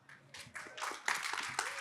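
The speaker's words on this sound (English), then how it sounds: "give them a round of applause" Scattered audience clapping for speakers at a talk, a brief, thin burst of separate hand claps from a small crowd, fairly quiet and lasting under two seconds.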